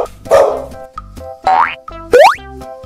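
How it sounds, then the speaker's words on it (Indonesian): Dog barks in a children's animal-alphabet lesson: three short, loud, cartoon-style bursts spaced apart, mixed with springy boing-like effects, with no talking. "Anjing."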